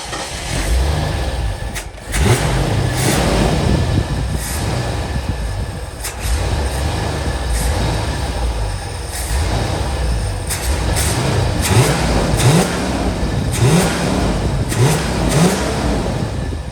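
A 1977 Mercury Cougar XR-7 V8 running on a new ignition system with unset timing, rumbling loudly up close and blipped through a string of quick rising revs that fall back between pulls.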